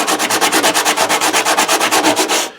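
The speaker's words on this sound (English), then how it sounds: "you can achieve the sand just by rubbing your piece onto this paper" A replica prop part is rubbed back and forth across sandpaper by hand, giving about twenty steady, evenly spaced rasping strokes up close before it stops abruptly.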